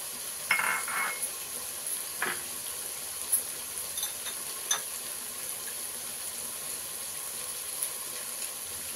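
Chopped tomato going into a sizzling aubergine masala pan, a steady low hiss of frying with a few scattered clinks and scrapes of stirring, close and without talk.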